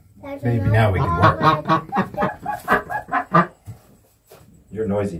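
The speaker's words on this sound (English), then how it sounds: "You're a noisy duck." A duck quacks loudly and repeatedly at close range, a rapid run of harsh calls followed by a brief pause and another burst.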